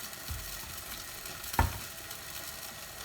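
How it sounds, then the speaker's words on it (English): Chicken curry sizzles and fries in a pan while being stirred as it starts to stick, giving a steady low crackle with a single sharper scrape or knock near the middle, no voices. "I'm literally stirring this and it's started to stick already"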